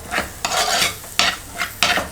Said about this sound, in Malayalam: നമ്മുടെ മുളക് ഏകദേശം മൂത്ത് വന്നിട്ടുണ്ട്.